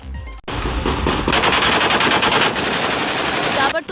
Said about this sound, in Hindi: सड़कों पर सिर्फ गोलियों की गूंज सुनाई दे रही है